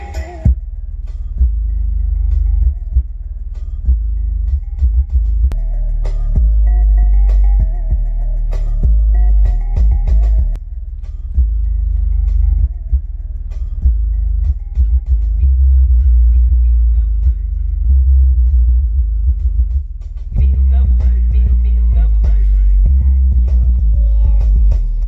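A Kicker 12-inch subwoofer pounds heavy bass inside a car, deep booming throbs under music with rattling buzzes as the cabin shakes, loud and continuous with brief dropouts.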